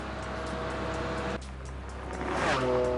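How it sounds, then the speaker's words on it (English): A Ferrari sports car speeding on a road, a sustained engine drone that drops back briefly and then climbs again as the revs rise, fairly close and steady, no talking. "Ray takes full advantage, pushing his Ferrari to nearly triple the speed limit"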